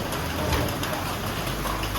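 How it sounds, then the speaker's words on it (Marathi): Heavy monsoon rain pours down in a constant dense roar at full strength across the whole stretch, with no break in the downpour. "आता तुम्हाला कळलंच असेल की किती पाऊस पडतोय"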